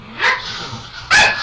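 Two short, sharp barks from a dog indoors, close and loud, the second sharper than the first, separated by a brief pause with a faint whimpery tone.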